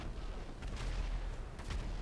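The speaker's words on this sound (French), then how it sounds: "Le problème c'est qu'avec les explosions je peux pas viser au snipe." Explosions and gunfire from the video game GTA 5 come as distant, muffled booms and bursts, with two stronger blasts rising out of a low rumbling background.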